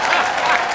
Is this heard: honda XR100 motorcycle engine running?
no